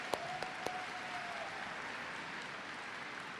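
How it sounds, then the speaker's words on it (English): Audience applause at a pre-commencement ceremony for bachelor's degree graduates, a faint, distant wash of clapping with a few sharper claps standing out near the start. "Everybody, can we give a big round of applause for our art department graduates?"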